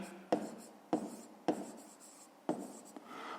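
A pen writes a math answer on paper, a close, soft scratching with a sharp tap at the start of each stroke, about five strokes in a loose rhythm, alone.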